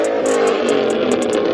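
A Ford Mustang engine at a car meet roars loudly and close in a sustained rev, with a rhythmic ticking clatter running over the top for the whole short burst.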